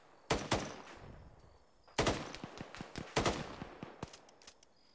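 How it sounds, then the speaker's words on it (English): Gunfire in the military video game Arma 3: three bursts of rapid automatic shots, each a cluster of sharp cracks followed by scattered single shots, loud and close with no talking. "Shots landing."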